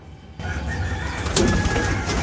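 Pigeons kept by a breeder, a Firozpuri and Shialkuti bloodline cross, cooing continuously and close by under a busy background rumble, with some wing flutter.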